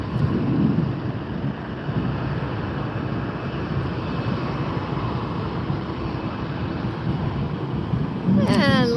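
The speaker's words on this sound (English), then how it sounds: "We are in a perfect position to see these aircraft rotate and head up into this beautiful Florida sky." A jet airliner climbs out from Tampa airport with a broad, distant roar that fills the whole stretch. Wind buffets the microphone at the end.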